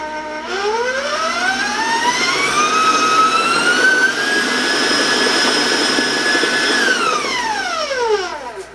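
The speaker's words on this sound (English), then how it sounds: "Now I'm going to put my mixer on high for a moment" A loud electric mixer mixing devil's food chocolate cake batter whines up to high speed, holds a steady rising whir, then winds down at the end.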